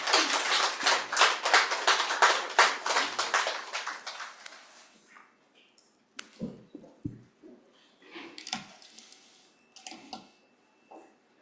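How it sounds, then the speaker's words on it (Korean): An audience at a public lecture applauds warmly to welcome the professor. The clapping is dense and close for about four seconds, then tapers off into a few scattered claps and quiet shuffling. "뜨거운 박수로 맞이해 주십시오"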